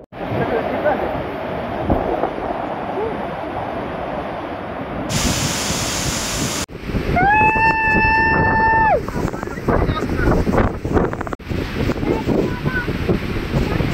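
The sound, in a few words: Kelvali waterfall in Satara, with wind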